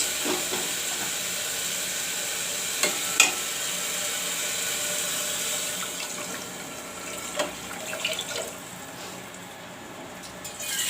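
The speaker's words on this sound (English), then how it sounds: "Friends, now I will add some water to it." Steady watery hiss and sizzle as water is added to a hot pan of masoor dal, with a few brief louder crackles and pops, close and moderately loud.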